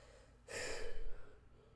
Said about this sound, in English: why am I yawning? I hate that.